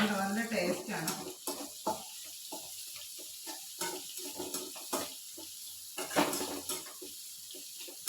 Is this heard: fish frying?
yes